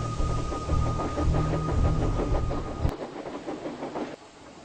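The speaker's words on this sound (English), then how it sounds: "Harley steamed out of the station to the shunting yards to collect his train." A steam train leaving a station chugs and rumbles steadily with a rhythmic clatter, loud and close, then the heavy low rumble cuts away, leaving a lighter hiss and rattle.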